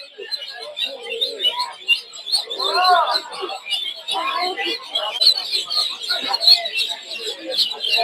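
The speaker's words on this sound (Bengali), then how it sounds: "এই জায়গায় প্রচুর হাঁসের বাচ্চা আছে" Many week-old native ducklings chirp in a crowded flock at a village poultry market in Narsingdi, a busy continuous peeping with people talking over it nearby.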